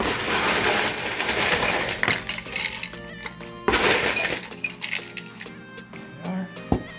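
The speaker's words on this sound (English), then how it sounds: "Fresh ice in the glass." Ice cubes clatter and clink into a glass in several sharp bursts, followed by lighter tinkling and a final crisp knock.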